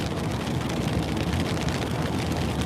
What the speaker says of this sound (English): it sure has dumped a lot of rain on us